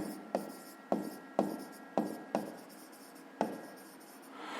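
A pen writes out a physics solution on paper in six distinct strokes at a steady, unhurried pace, close and clear, each stroke starting with a sharp touch and fading into a soft scratch, with no talking.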